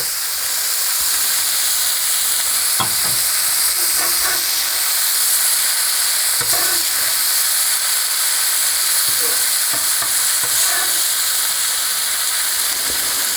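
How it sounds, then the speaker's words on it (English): Vegetables cooking in a hot pan send up a loud, steady hiss of sizzling steam, with occasional clicks and scrapes from stirring, heard close and without talk. "You cook the veggies up"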